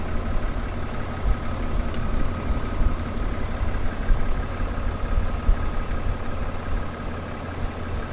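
A 2019 Ram 3500 pickup with an EGR delete idles steadily, a low, even diesel rumble continuing without pause at moderate distance and with no voices.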